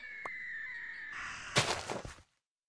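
A crow in the video game Minecraft gives a drawn-out, hoarse caw, followed by a rougher burst of rasping calls before it cuts off.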